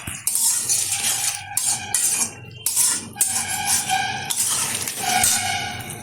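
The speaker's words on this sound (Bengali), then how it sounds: "আবার একটু নেড়ে নিচ্ছি।" Mutton with turmeric and salt is stirred in a pot, a close series of bright metallic scrapes and clanks of a utensil against the metal, coming in uneven bursts with short pauses.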